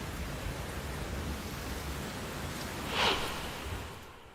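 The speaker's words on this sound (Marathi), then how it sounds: "डोंबिवलीत गेल्या 2 तासांपासून मुसळधार पाऊस पडतोय." Heavy rain pours down in Dombivli as a dense, steady wash of noise, with a slightly louder surge partway through.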